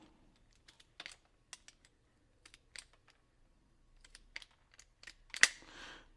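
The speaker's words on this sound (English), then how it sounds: "let's cut a fuse" Anvil fuse cutters snipping pyro fuse, a scatter of quiet sharp clicks and snaps close to the mic, ending in a louder crisp cut with a brief rustle.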